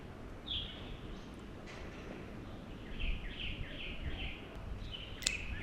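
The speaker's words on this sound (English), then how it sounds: "You can hear birds singing throughout the day" Faint birds chirping in short repeated phrases over a quiet outdoor background in a Chinese residential community, distant and intermittent.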